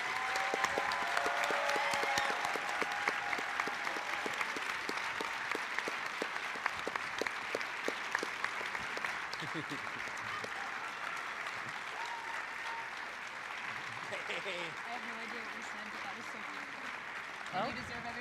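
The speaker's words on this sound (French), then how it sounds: "je veux une grande main d'applaudissements pour leur extraordinaire création." Sustained audience applause for students' extraordinary special-effects makeup creations at a Séminaire Sainte-Marie Face Off event, dense steady clapping lasting throughout with a few voices faintly under it.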